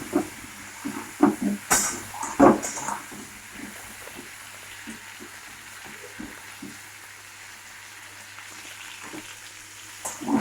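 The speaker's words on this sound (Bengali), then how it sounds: "পটলগুলো আমরা ভালো করে লাল লাল করে ভেজে দেবো।" Pointed gourd pieces frying in oil, with scattered pops and sizzling crackles, stronger early and then a quieter steady fry over a faint hum.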